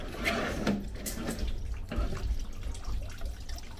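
Coolant draining from a BMW E36 engine in a garage, a soft continuous trickle and splash of liquid with occasional drips, close and fairly quiet.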